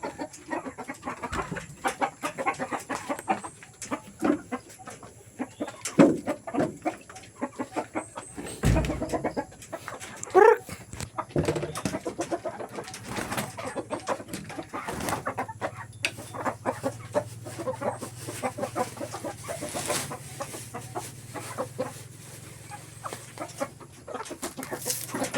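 Chickens cluck on and off at a nearby farm or yard in Davao, mixed with ambient outdoor noise and scattered thuds, a steady hum emerging in the later part.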